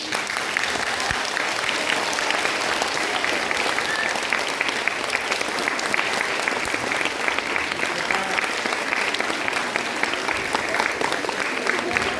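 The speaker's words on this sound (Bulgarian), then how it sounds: "Аплодисменти за нашите" Audience applause at a school's 60th-anniversary gala concert, a loud, sustained roar of clapping from a large crowd that runs steadily for over twelve seconds without easing.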